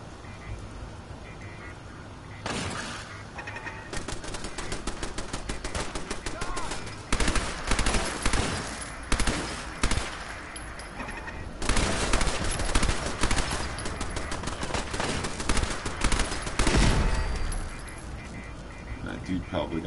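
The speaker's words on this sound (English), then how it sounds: "Submachine gun, 249." Video game M249 machine gun fires long, rapid automatic bursts at close range, loud rattling stretches broken by short pauses, with someone talking over the shooting.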